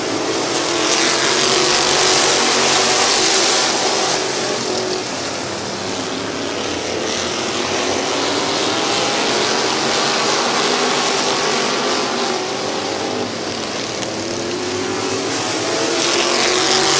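Race cars roar around Midvale Speedway in a dense, continuous pack, engines loud and sustained with rising and falling pitch as cars sweep through the turns together.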